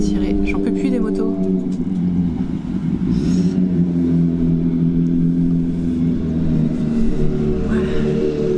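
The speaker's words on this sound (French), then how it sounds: "J'en peux plus des motos." Motorcycles pass outside with a low droning, revving engine rumble that persists throughout, heard indoors beneath someone talking.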